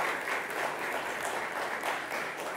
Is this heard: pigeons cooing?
no